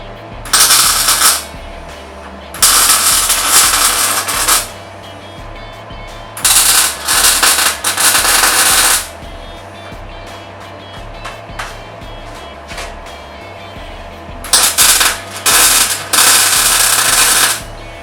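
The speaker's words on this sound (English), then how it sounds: "We're going to run a couple more welds." Welding on a Jeep CJ7 roll bar in a garage: loud bursts of crackling arc, each lasting one to two seconds, come in groups separated by quieter pauses with a low background hum.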